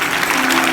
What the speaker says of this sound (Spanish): Si le va a dar el aplauso, dáselo.